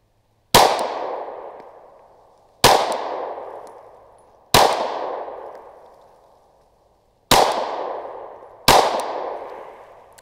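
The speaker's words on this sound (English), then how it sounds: "I am going to put 5 really slow rounds on the left square" Five slow, evenly spaced pistol shots from a ZevTech Z320X Compact at a range, each a sharp loud crack with a long echoing decay before the next, and no talking.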